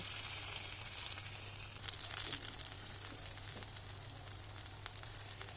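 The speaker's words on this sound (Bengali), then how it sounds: "এইভাবে আমি বড়াগুলো তেলের মধ্যে দিয়ে দেব" Palm fruit fritters frying in hot oil on a low flame, a quiet, steady close-up sizzle with fine crackling that swells briefly midway, under a low constant hum.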